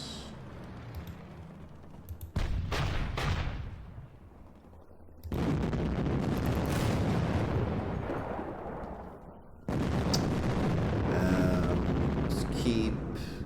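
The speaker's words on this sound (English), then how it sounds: "Heavy guns." Heavy artillery guns fire in the Panzer Campaigns wargame, set in the Kiev '43 Brusilov assault, as three loud booming salvos each hit suddenly and roll on in a long rumbling wash, with a quieter lull between them.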